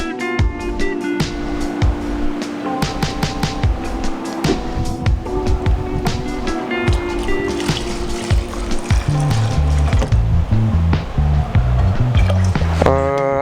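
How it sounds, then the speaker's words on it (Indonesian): Water and coconut milk poured into a rice cooker over washed rice, a steady liquid fill with splashing that runs under busy background music throughout. "Terus ini ada air putih sama coconut milk, kita campur aja."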